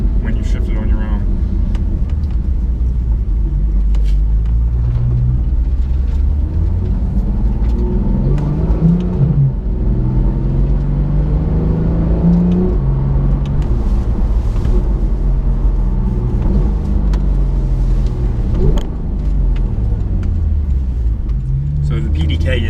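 A 2015 Porsche 911 GT3 with a PDK gearbox accelerates under manual paddle shifting. Its engine note climbs and drops in repeated steps as gears change, heard from inside the cabin as a steady rumble under ongoing conversation.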